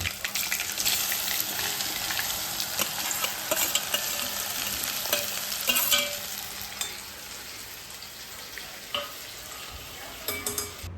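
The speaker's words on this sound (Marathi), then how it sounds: "मेथ्याही तेलामध्ये छान झाल्या की नंतर मग आपण ज्या कैरीच्या फोडी चिरून ठेवलेल्या आहे त्या सगळ्या घालून घ्यायच्या" Raw mango pieces and fenugreek seeds frying in oil, a dense bright sizzle with continual stirring and scraping throughout, close and fairly loud, with a faint bit of running water.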